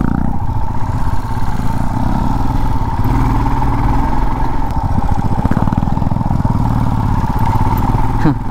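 A motorcycle engine runs steadily at close range while riding off-road, giving a loud continuous drone with rattling and wind buffeting throughout, and a voice occasionally audible beneath it.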